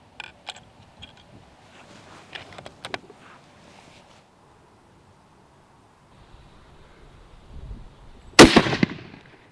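Rifle shots fired from a homemade shooting bench built from scraps, outdoors: a few faint distant cracks early on, then one loud, sharp close shot near the end after a quiet stretch.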